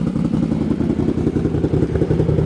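Motorcycle fitted with an SLG Sniper Performance Series exhaust and Dyno Jet PV3 tune, idling loud and close with a steady, choppy low-pitched exhaust pulse throughout, no voices over it.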